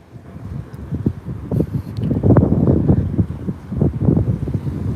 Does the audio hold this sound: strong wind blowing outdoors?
yes